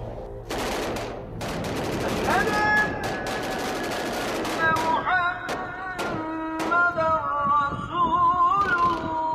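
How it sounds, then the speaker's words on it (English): Gunfire in a city of over two million, starting as sporadic shots and building into heavy, overwhelming volleys from many directions, with sharp loud cracks and bursts under a dense, continuous din. "what started as sporadic gunfire quickly became overwhelming from all directions"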